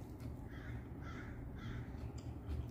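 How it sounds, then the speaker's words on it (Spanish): Crows cawing outdoors, several harsh calls spaced about every half second, faint and distant over a low steady background rumble, no talking. "¿Escuchan a los pájaros?"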